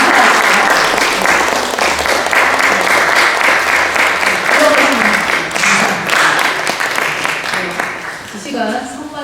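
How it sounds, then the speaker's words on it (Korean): A Korean Methodist church congregation applauds to welcome new confirmed members during a Sunday service; loud, sustained clapping from a large crowd runs throughout, fading slightly at the end as voices begin. "성도 여러분께서는 박수로 환영해 주시길 바랍니다."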